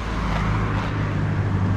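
Steady road traffic roars along Highway 200 in Bucerias, Mexico, a continuous broadband rumble with low engine hum and no distinct single pass, fairly constant in level throughout.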